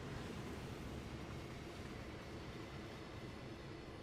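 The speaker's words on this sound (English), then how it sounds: "How about a GP3-2 going pretty fast?" A GP3-2 diesel locomotive in Train Sim World 5 on the Oakville Subdivision passes at speed, a steady loud rumble of wheels and rail noise filling the whole stretch with no pauses and no talk.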